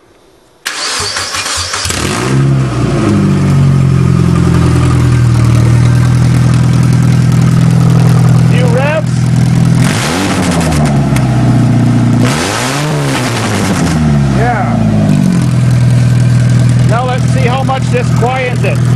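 A 1997 Mazda with a modified exhaust starts and settles into a loud, deep idle, then revs several times in rising and falling bursts, close by, with people speaking over it.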